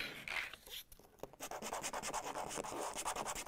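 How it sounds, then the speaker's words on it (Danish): Sandpaper rubbed by hand over a 3D-printed PETG part, making close, faint, rapid back-and-forth rasping strokes with a short pause before a steady rhythmic run. "Og jeg skal bruge noget sandpapir til det."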